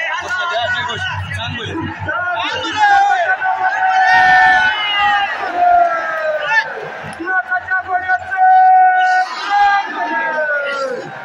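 A dense crowd of devotees throngs the chariot at the Siddhnath yatra in Mhaswad, a loud, continuous hubbub of chatter and occasional shouts with a prominent amplified voice calling over the noise.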